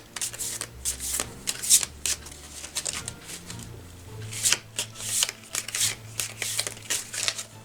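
Tarot cards shuffled by hand for a dream-themed reading, a run of quick riffling bursts and soft slaps close to the microphone with short pauses between, faint hum beneath and no talking.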